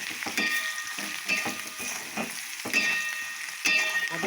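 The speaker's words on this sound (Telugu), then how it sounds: "చక్కగా మనకి ఫ్రై అవుతుంది" Spices tempering in hot oil in a pan for a mango curry sizzle and crackle steadily throughout, with a few louder spattering bursts, close up and with no talk.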